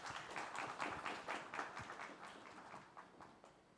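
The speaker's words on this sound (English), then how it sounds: "Please give them a big round of applause." Quiet, distant audience applause for speakers at a technology talk, scattered claps forming a soft, steady patter that thins toward the end.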